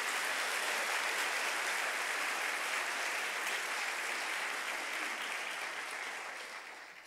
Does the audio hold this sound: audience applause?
yes